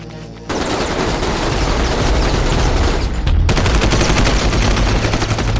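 Heavy machine gun fire in the video game inFAMOUS Second Son erupts suddenly and continues as a loud, dense, unbroken rattle, with a brief dip before another gun joins in even louder.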